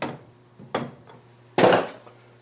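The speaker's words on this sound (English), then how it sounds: "Give it a little tap with a dead blow hammer to seat everything" Three dull, muffled dead blow hammer taps on metal, seating a part, spaced unevenly, the last one the heaviest, with quiet pauses between.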